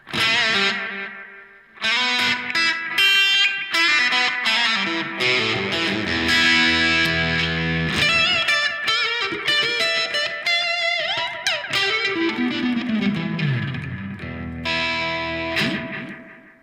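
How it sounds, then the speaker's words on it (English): Electric guitar played through an Echorec-style tape echo unit in mode 5, with heads 1 and 2 on together, giving bouncing analog repeats with distortion across a continuous, loud passage. "In this mode, you can get more of the kind of typical tape echo sounds"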